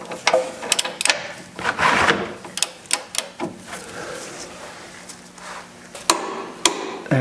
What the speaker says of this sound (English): I've got my torque wrench all set here.